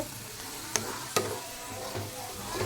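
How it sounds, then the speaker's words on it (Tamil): Cashews and cardamom fry in ghee at home during Pongal cooking. A constant, even sizzle fills the clip, with two sharp clicks from the pan early on. "நம்ம முந்திரி பருப்பையும் ஏலக்காயும் நெய்யில் வறுத்துடலான்னு சொல்லிவிட்டு உள்ளே வந்து வறுக்க ஆரம்பிச்சிட்டேன்"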